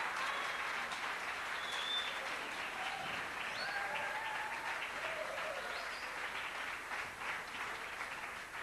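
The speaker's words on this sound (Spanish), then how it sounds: "Un aplauso para él." Concert audience applauding as the first singer-songwriter walks onto the stage at a 1992 chapel concert in Sucre, a dense, even wash of clapping throughout, fairly distant with a few faint whistles and calls on top.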